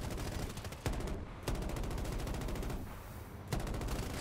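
Rapid bursts of gunfire from an aircraft shooting down an enemy aircraft in the video game Battlefield 2042, loud and continuous with a few sharper cracks, no talking.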